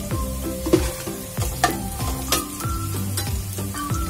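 Green chilies sizzle in hot oil alongside crushed red chili, a close crackling fry with repeated knocks and scrapes of a spoon stirring the pan.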